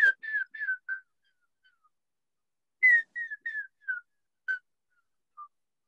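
A person whistles an imitation of a gray woodpecker call: two quick descending series of short whistled notes, each trailing off, clear and close with nothing else heard.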